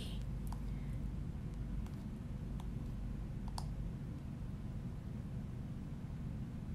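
A computer mouse clicks a few times, sharp and isolated, while browsing a shopping website during a Bath & Body Works summer sale. The clicks sit over a steady low background hum, with a short pause between them.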